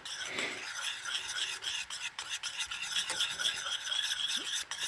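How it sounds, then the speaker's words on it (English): A tiny gag-gift whisk scrapes and rasps steadily against a pot while stirring homemade Kahlua as it heats, a close, continuous scratchy rubbing with no talking. "This is the world's tiniest whisk, by the way."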